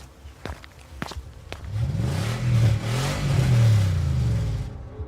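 Heavy footsteps thud a few times up close, then a jeep engine starts and revs, its rising drone swelling and holding loud before fading out.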